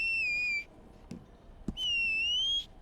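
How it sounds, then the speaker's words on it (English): A character's whistle in the Red Dead Online video game, style 2: two clear, sustained tonal notes, each lasting about half a second, separated by a short gap with a faint click between them. "I like that whistle myself."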